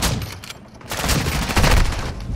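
Rapid bursts of video game gunfire ring out in a battle royale match at Pochinki. The dense, loud volleys crack and boom repeatedly, with no one speaking.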